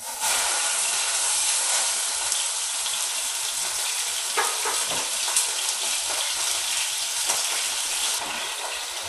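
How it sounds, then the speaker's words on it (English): Meat browning in smoking-hot olive oil in a pan, a steady loud sizzle and crackle that fills the whole stretch with small pops scattered through it. "I've placed some olive oil in the pan, and it's smoking hot, a little too hot, but I'm ready to brown the meat."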